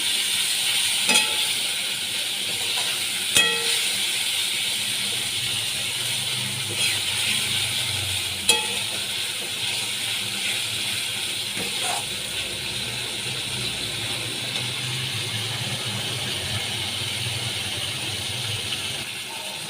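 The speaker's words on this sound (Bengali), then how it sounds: "পেঁয়াজ আর টমেটো আমি দিয়ে দিয়েছি এবার ভালো করে আমি কষিয়ে নিচ্ছি" Crushed onion and tomato sauté in a pan for a Katla fish recipe, a soft, constant sizzle punctuated by a few scattered spatula clicks and scrapes.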